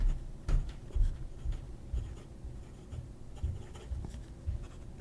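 A fountain pen with a slightly springy nib scratches across paper in short, soft strokes and taps, close and quiet, with no voices.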